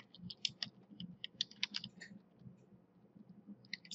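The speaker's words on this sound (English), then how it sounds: "I'm going to type my details" Details typed on a computer keyboard while building a Microsoft Access report: quick, close, fairly quiet clicking keystrokes in uneven bursts with a short lull near the end before a final flurry, over a low room hum.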